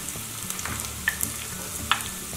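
Chopped onion sizzling in hot oil in a pan, with ginger and garlic already frying, giving a steady close crackle and hiss with small pops, with no voices.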